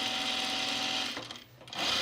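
Sewing machine topstitching a blouse yoke, a steady close whirring run that dips briefly into a pause before starting up again.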